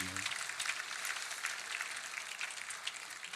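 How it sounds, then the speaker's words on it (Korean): A church congregation gives sustained applause at a Sunday worship service, a soft, dense patter of many hands clapping that stays even throughout, heard from a distance. "우리 다시 한번 격려의 박수로 한번 할까요?"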